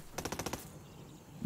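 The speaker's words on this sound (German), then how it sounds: "Ich habe gerade irgendwie 200 Mal Schuss dafür verschossen." Rapid burst of about seven automatic gunshots from the video game Ghost Recon Wildlands, loud and evenly spaced, then a quieter tail of game ambience.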